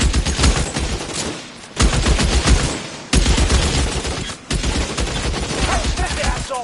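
Bursts of gunfire from a shootout in L.A. Noire, loud and dense, with rapid volleys and sharp shots repeating through the whole stretch and brief lulls between them.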